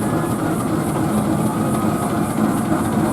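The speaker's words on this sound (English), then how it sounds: "Another beautifully presented road locomotive, and this one in the livery of a very prestigious furniture company" A steam road locomotive in furniture company livery rolling past in a steam rally parade, a steady rumbling engine and heavy mechanical chug with a rhythmic pulse, moderately close and continuous.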